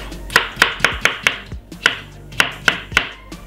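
A knife chops celery on a board in a quick, steady rhythm of about a dozen sharp, close knocks.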